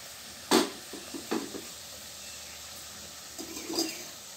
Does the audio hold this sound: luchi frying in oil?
yes